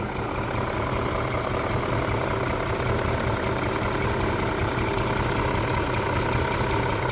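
A BMW E39 M5 V8 sits idling with a rough, uneven chugging from a bad misfire, steady and loud at close range, a dense rumble throughout with no talking.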